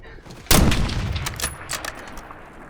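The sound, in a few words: gunfire in the video game Call of Duty Black Ops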